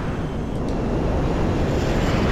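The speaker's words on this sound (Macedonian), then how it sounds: "Пошто лета огромен авион и што има дупка позади." A huge airplane flies in Grand Theft Auto V, giving a loud, steady engine roar that stays constant and close throughout.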